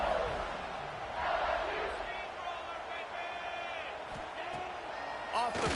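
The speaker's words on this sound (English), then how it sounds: "They are on their feet, yelling, screaming." Stadium crowd in a football video game roaring and yelling, a broad sustained din with rising cheers and whoops, heard under a commentator's voice.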